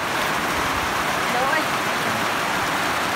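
Rain falls steadily, a broad, even hiss of drops that holds at a constant level throughout with no talking over it.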